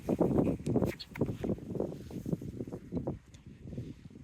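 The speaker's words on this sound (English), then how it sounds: "some of these gusts of wind are just crazy. It's destroying these trees and the fruit." Strong, gusty wind buffets the microphone in a fruit orchard of aprium and pluot trees, coming as loud irregular rushing surges and low rumbles with a faint rustle of branches and no speech.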